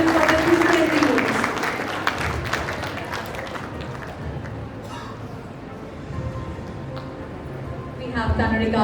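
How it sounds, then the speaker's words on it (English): An audience at a school investiture and felicitation ceremony applauds young achievers. The clapping is loud and sustained at first, then fades to a softer patter before a voice begins speaking over a public address system near the end. "Please, ladies and gentlemen, a huge round of applause for our young achievers"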